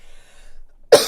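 A single sharp cough from one person, sudden and loud after near silence, ending quickly with a short breathy tail.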